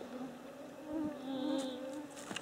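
Mosquitoes whine in a forest during a hiking trip, a close, steady high-pitched buzz that swells and fades as they fly near, with no talking over it.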